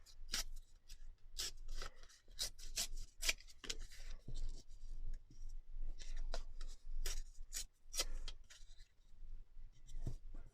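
Sticky brown paper is torn by hand while decorating junk journal pages, giving a series of sharp, close ripping and rasping bursts with brief pauses between them. No one speaks.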